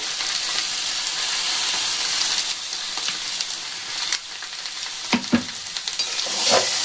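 Cashew paste and tomato sautéing in a hot pan, a continuous close sizzle broken by several spoon scrapes and stirring knocks toward the end, with no voices.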